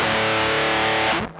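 A fuzz pedal guitar tone through a Laney L5 Studio amp: one thick, saturated sustained chord ringing loud and alone, then choked off abruptly just before the end.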